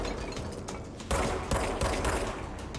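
Gunfire from enemies in the game Control, dense bursts of shots and impacts that swell louder midway and keep rattling in loud clusters to the end.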